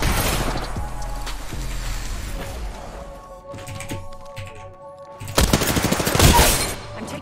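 Gunfire in a squad-based video game shooter: bursts of rapid automatic shots at the start, then sparser single cracks with a tonal hum. A loud, dense volley near the end, with no talking.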